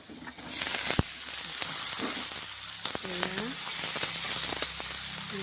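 Vegetables fry in a pan just after turmeric goes in, giving a steady close sizzle with scattered clicks and scrapes from stirring, while a voice speaks faintly in the background.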